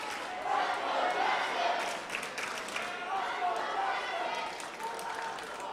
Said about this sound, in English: With the crowd cheering his name.